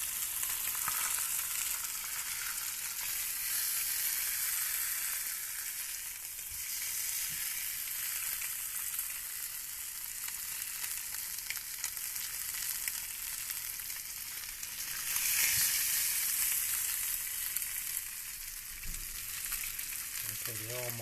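Beef short ribs sear in a pan with a steady, bright sizzle of hot fat that runs continuously and fairly loud, swelling briefly now and then, with no talking over it.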